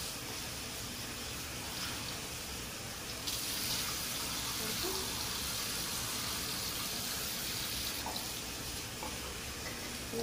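Warm tap water runs steadily from a faucet onto a washcloth at a bathroom sink, a continuous close hiss and splash with slight changes in flow as the cloth is soaked.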